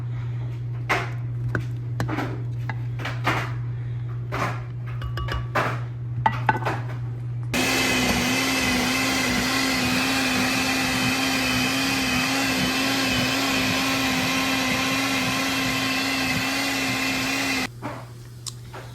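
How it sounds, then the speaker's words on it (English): Clicks and knocks come first, then a blender blending tomato soup with basil roars on loudly with a steady whirring drone for about ten seconds before it stops abruptly. "I'm gonna add a handful of basil and blend it up for the first batch"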